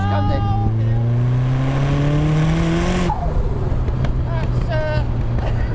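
A turbocharged Mazda MX5 pulls hard in third gear, its engine note climbing steadily and loudly before a shift or lift, then settling into a lower drone as a voice speaks briefly.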